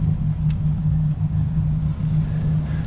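A car rolls slowly along roads at the Center Parcs Domaine du Lac d'Ailette lakeside resort, its engine holding a steady, close low rumble with no talk over it.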